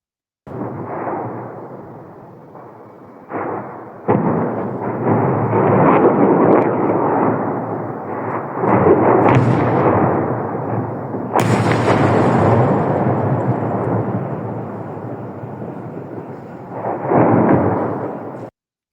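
Heavy explosions from an ammunition depot in Donetsk boom and rumble one after another at a distance, deep rolling blasts that swell and linger, with sharper cracks breaking through between them.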